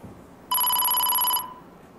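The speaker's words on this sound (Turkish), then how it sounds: "Çevirmeli telefon kullanıyorum." A rotary dial telephone rings once with a bright, steady electric bell tone lasting about a second, close and loud against a quiet room, then cuts off and fades.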